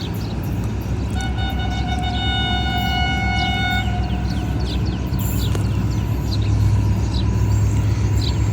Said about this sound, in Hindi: GMU 40 का सायरन सुनाई दे रहा है।